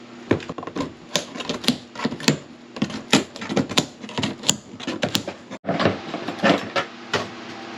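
Seam covers being pried off an RV ceiling with a pry bar during a fifth wheel gutting, giving a rapid run of sharp cracks, snaps and clatters, close and fairly loud, with no talk.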